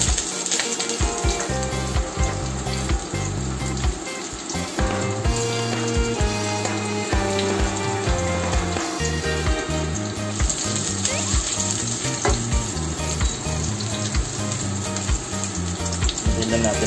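Garlic and onion sauté in a hot pan for cabbage with chicken, a steady close sizzle with occasional stirring scrapes running throughout, no talking.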